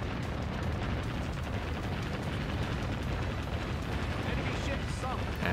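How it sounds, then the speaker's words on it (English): Big naval cannons, 61 centimeter guns, firing in the Warship Gunner 2 video game, a dense continuous rumble of heavy booms and blasts with game noise throughout. "it feels good to have big old cannons again"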